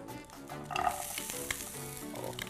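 Onions go into a hot frying pan for a sweet corn egg fry and sizzle steadily, a close, continuous crackling hiss with a few stirring clinks.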